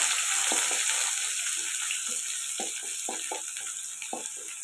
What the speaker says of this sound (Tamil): இடித்த பூண்டு போட்டுக்கலாம் போட்டு இதில் கொஞ்சம் வதக்கலாம்